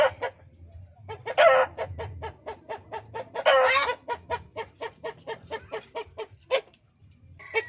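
A hen clucks in a rapid series of short, evenly spaced calls, with two louder drawn-out squawks breaking in, close and clear with no talking.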